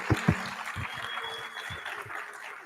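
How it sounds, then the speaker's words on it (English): Audience at a 2025 Torrington mayoral candidate forum claps in a small room, a fairly light scattering of hand claps that starts with a few sharp ones and thins out, moderately distant. "now let's give them a huge round of applause"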